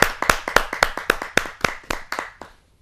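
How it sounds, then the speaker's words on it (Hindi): Applause welcoming a poet at a Hindi kavi sammelan: crisp, close handclaps in an even, quick rhythm, around a dozen beats, fading out at the end with no talking. "जोरदार ताली के साथ हम आमंत्रित करते हैं"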